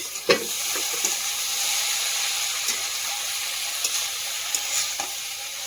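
Curry simmering and being stirred in a pot over a wood fire, a steady close hiss and sizzle with a few soft scraping stirs and small pops, no voices.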